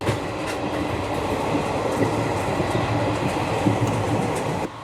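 Train pulling away from Bardhaman station and picking up speed, its steady broadband rumble and rail noise continuous and fairly loud throughout, with faint rhythmic wheel clatter.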